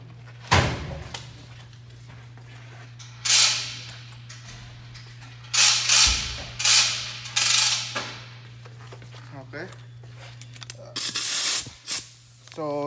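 A ratchet works on the 32 mm axle nut of a Hyundai Tucson in a garage, with several short bursts of clicking and loosening separated by quiet gaps over a low steady hum.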